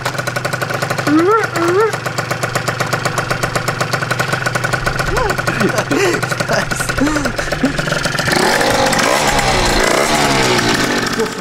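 A tuned scooter engine running on its first start, a loud buzzing two-stroke idle with rising and falling revs, close by, while people talk over it.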